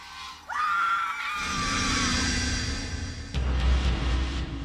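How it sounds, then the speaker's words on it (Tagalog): Several women screaming in a horror-story setting, heard from a neighboring unit's balcony: a shrill scream rises sharply and holds for about two seconds, then layered cries and noise continue loud to the end, with no speech. "Nagising ako sa mga sigaw ng ilang kababaihan, Miss Anne."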